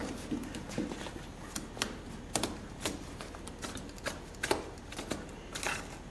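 Rotary shears cut through aircraft wing covering fabric on a Piper wing, giving a quick series of faint, crisp snipping clicks at an uneven rhythm over a quiet background.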